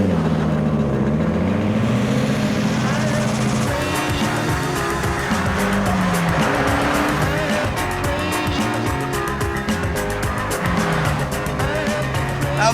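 A Dax Kamala kit car with a turbocharged Ford Cosworth engine of over 300 bhp drives hard, its engine droning steadily and rising in pitch with faint tyre squeal, loud and continuous throughout.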